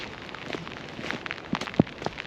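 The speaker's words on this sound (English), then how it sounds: "Can't wait to get out of this rain as well." Rain falls outdoors on a cold, wet day of hillwalking, a steady close patter with scattered sharper drops hitting nearby surfaces, no voices.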